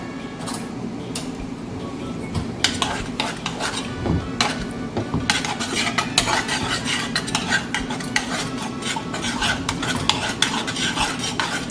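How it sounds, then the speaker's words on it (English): A spoon scrapes and clinks around a pot, stirring barbecue chicken wing mixture with water, steadily with repeated sharp taps against the sides, close up and without speech. "I'm gonna just mix that up a bit."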